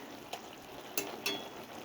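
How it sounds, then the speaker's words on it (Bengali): Fish tipped into a pan of bubbling fish curry made with kakrol leaves, with a soft steady sizzle and a few brief sharper splashes as pieces land; no talk. "এখন আমি এই মাছটি ঢেলে দেব।"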